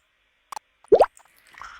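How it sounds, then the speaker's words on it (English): A short, warbling GMX electronic UFO sound effect bubbles up after a faint click, then trails off into a soft fading tail. "this is the popular UFO effect sound from GMX"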